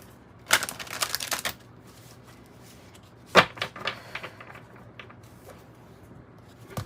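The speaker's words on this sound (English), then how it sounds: "All right, I think I have shuffled good enough." Tarot cards are shuffled by hand nearby, with two bursts of riffling and papery slaps separated by quieter rustling and handling, no talking heard.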